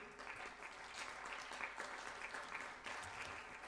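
Audience applause at a youth media forum in France's Grand Est region, a soft, distant and continuous patter of many hands that holds at an even level from start to finish.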